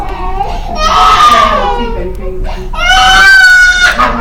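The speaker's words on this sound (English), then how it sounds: "Yeah, that's a newborn cry." A newborn baby cries in two loud, strained bursts, a wavering wail followed by a short gap and a second, higher sustained cry, close to the microphone.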